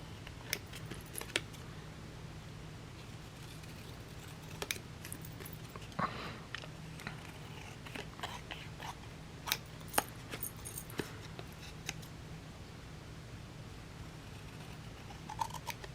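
Scissors trim paper at a craft table in a series of quiet, crisp snips scattered irregularly over a soft background hush.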